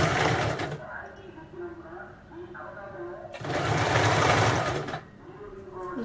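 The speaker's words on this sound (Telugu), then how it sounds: "అలాగా స్టిచ్ చేసుకోండి, అప్పుడే మీకు పైపింగ్ అందంగా వస్తుంది." A sewing machine stitches piping in quick buzzing runs, loud at the start and again in a longer middle burst, with quieter pauses between where a voice talks over the hum.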